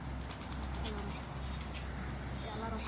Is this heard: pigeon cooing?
yes